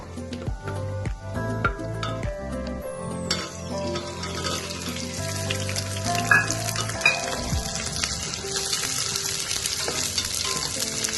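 Onions and green chillies sizzle and fry in a pan of spices for vegetable kichidi, with a steady crackle broken by a few clanks of a spoon stirring against the pan.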